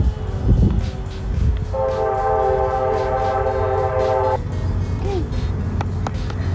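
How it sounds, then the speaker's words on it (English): A train rumbles past steadily while its horn blows one long sustained blast, with faint voices in the background. "Oh, the train. You hear the train?"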